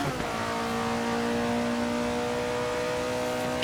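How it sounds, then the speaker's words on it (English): Alfa Romeo 33 Stradale engine in the Assetto Corsa racing game, holding a steady, loud mid-range drone with strong harmonic whine as the throttle stays open and the car accelerates, with no talk over it. "Throttle cracks open again. You can hear a little pop as everything starts to suck air in"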